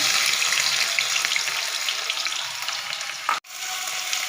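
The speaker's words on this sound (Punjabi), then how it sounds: "ਇਹਦੇ ਵਿੱਚ ਆਪਾਂ ਪਿਆਜ਼ ਪਾ ਦਿੰਦੇ ਹਾਂ" Finely chopped onions fry in hot oil in a kadai, a loud, bright, continuous sizzle that cuts off abruptly near the end before resuming more quietly.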